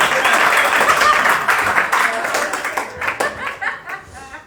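A comedy club crowd at a live stand-up show in New York bursts into loud applause mixed with laughter, the clapping dense at first and then thinning out as scattered claps and chuckles trail off.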